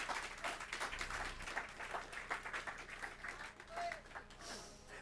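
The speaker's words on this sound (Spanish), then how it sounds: "Denle un aplauso al Señor por ello." A church congregation applauding, a sustained burst of mixed clapping from a crowd in a worship hall, moderately distant, with a voice speaking over it.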